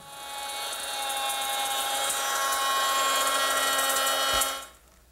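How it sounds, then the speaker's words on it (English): A router fitted with a 1/4-inch slot cutter grooves the edge of a wooden board in one loud, steady high-pitched whine that builds briefly, holds for several seconds and then cuts off as the bit leaves the wood. "I'm going to use my router with a 1/4-inch slot cutter"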